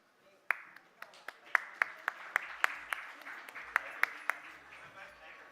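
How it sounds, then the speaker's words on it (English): Sparse, sharp individual claps from an audience at the ThinkEdu 2023 conference at ITC Grand Chola, a slow uneven series of distinct hits over a quiet room, with faint talk underneath. "A big round of applause for Mr. Tiwari for joining us here at the ThinkEdu 2023."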